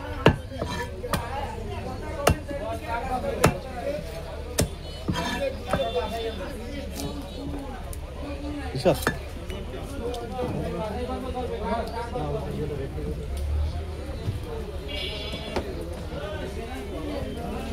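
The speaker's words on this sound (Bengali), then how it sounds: "রেদওয়ান মাছের আঁশ ছাড়িয়ে নিচ্ছে ছুরি দিয়ে সুন্দর করে" A knife scrapes scales off a tilapia in a steady run of short, rasping strokes with sharp clicks, close by, under a background murmur of voices and room noise.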